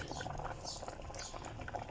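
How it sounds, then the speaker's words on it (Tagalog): Soft continuous bubbling and gurgling of water boiling in a cooking pot, close and fairly quiet, with faint background murmur. "syempre kumukulo na"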